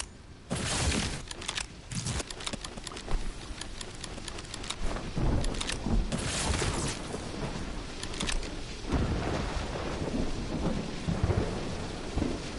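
Thunderstorm during a Fortnite live event: heavy rain hisses continuously while loud cracks and rolling booms of thunder break through repeatedly, close and intense, with no voices.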